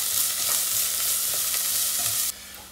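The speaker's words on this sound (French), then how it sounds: "Je fais revenir l'ensemble pendant 2 à 3 minutes" Ginger and onion pieces sauté in oil in a pan, giving a steady, loud, broadband sizzle with occasional stirring scrapes, the hiss dropping abruptly near the end.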